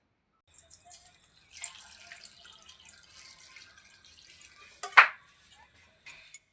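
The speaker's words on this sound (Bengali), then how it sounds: "এবার কেটে রাখা এই বেগুনের স্লাইসগুলো ভালো করে ধুয়ে নিচ্ছি, যেন কোনো ময়লা না থাকে।" Sliced eggplant is rinsed under a running kitchen tap for crispy beguni, a soft steady trickle of water with light splashes, a louder splash and handling noise midway.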